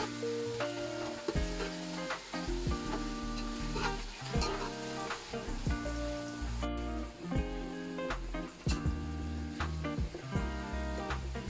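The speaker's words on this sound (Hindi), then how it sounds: "अच्छे से हम इसको फ्राई करेंगे।" Onions for beef nihari frying in a pot, a dense steady sizzle under frequent knocks and scrapes of a stirring spoon, close and constant throughout.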